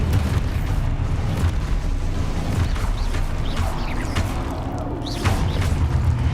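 Explosive spells in the Hogwarts Legacy video game burst and rumble in a dense, continuous roar, with whooshing sweeps and sharper crashes rising out of a heavy low-end boom throughout.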